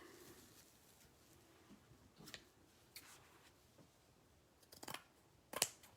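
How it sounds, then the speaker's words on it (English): Scissors snipping through a piece of Dollar Tree burlap, a few faint, scattered crisp cuts close to the microphone, separated by quiet gaps. "I gotta cut that off. And I'm just gonna cut a piece."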